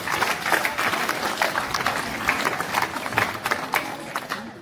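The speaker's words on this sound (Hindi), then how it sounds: "उसके लिए भी एक बार जोरदार तालियां होनी चाहिए।" Loud applause breaks out among the crowd at a state-level youth parliament held at a government senior secondary school in Kaithal. Vigorous, close clapping pulses strongly throughout the few seconds, with the murmur of the gathering beneath it.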